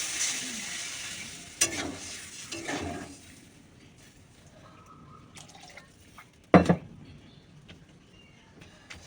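Food is sautéed in a pan with a low sizzle and scattered drips and stirring scrapes, plus a couple of sharp clanks against the pan.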